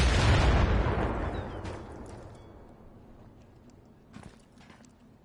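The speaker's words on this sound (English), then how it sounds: "Seeing some explosions, but nobody's out yet." A loud explosion in a video game match booms at the start, then its rumble decays slowly into quiet background noise, with a couple of faint pops later.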